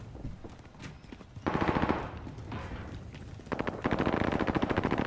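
Automatic gunfire in Call of Duty: Warzone, with rapid, rattling bursts of close shots that grow denser and louder toward the end, with scattered fainter shots between them.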